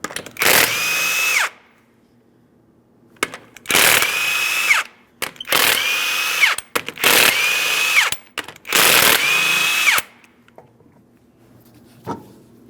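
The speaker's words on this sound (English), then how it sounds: "you'll find you have 5 21mm lug nuts, and let's get the wheel off of here." A power tool spins off five 21mm lug nuts from the driver's side rear wheel of a 2005-2010 Chrysler 300, giving five loud, close whirring bursts of about a second each, separated by brief quiet gaps.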